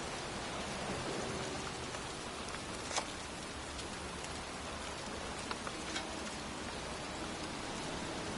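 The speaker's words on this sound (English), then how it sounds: "standing in a cemetery in pouring rain" Heavy pouring rain falls steadily in a cemetery in the Heavy Rain video game, a dense continuous hiss with a few brief drip-like ticks and no voices.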